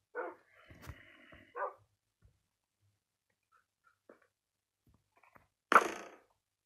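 Dogs in Minecraft, heard in a 1.18 hardcore world: a couple of short yips and barks near the start, then near silence with faint game sounds and a sharp burst toward the end.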